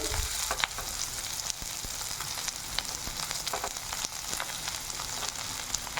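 Onion and cabbage fry in hot oil in a kadai, giving a dense, steady sizzle close by with scattered clicks and scrapes of stirring and no voices.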